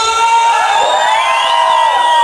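A large crowd at a lively event screams and cheers loudly in response to a call, a sustained dense wall of voices, many high-pitched, with no break throughout.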